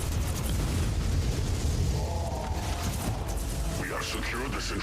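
Artillery bombardment in Warhammer 40K: Inquisitor - Martyr, a dense, continuous rumble of explosions and booming impacts, loud and low, with crackling bursts toward the end and no talking over it.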